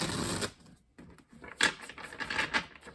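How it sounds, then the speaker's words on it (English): Tarot cards being shuffled by hand, a quick riffle followed by softer irregular flicks and taps, close and quiet. "I am doing a thorough shuffling here"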